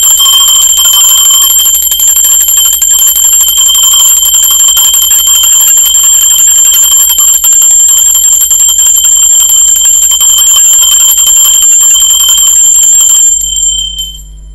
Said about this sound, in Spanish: Va campana, ser divino.